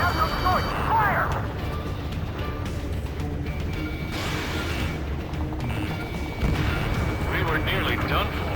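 Gunfire and heavy weapon fire in the combat flight game Ace Combat 7, a continuous low rumbling barrage with scattered bursts, mixed under game radio voices and background music.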